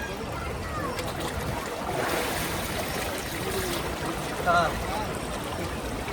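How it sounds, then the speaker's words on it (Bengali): Fast, strong current of the Ganges at Vishnu Ghat in Haridwar, a steady broadband rush of flowing water with splashes, heard close and continuous with no speech over it. "আর গঙ্গার স্রোত দেখে নাও, প্রচুর, মানে এত পরিমাণ স্রোত আছে কিছু বলার নেই।"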